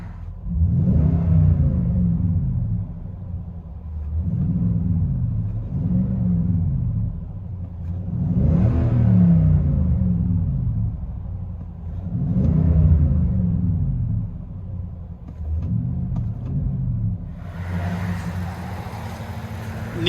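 A 2022 Nissan Titan Pro 4X with a 5.6L V8 and Magnaflow exhaust revs repeatedly, each deep rumbling blip rising and falling in a series of about five pulses, close and loud, with a hiss toward the end.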